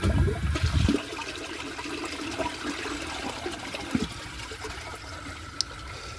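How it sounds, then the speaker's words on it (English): A 2003 Eljer Patriot comfort-height toilet flushes with a loud rushing gurgle at first, then settles into a steady trickle and drain of water that continues faintly as the tank empties into a clogged bowl. "I'm gonna empty the rest of the water from the tank."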